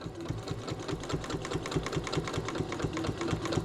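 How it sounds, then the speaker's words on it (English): Sewing machine stitching a quilted fabric keychain, a steady rapid mechanical chugging at close range that runs continuously without pause, no speech over it. "we are going to sew down one side, across, back up the other side, so this stays shut"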